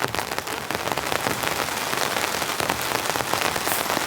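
Heavy rain drums steadily on the roof of a compact camper van, a dense, close, continuous patter with no voices.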